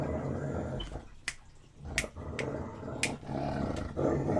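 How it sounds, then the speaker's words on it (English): A pet dog named Bella growls low and rumbling in the background, the sound rising and falling across a few seconds with several sharp clicks cutting through it, no speech over it. "My dog sounds so mean"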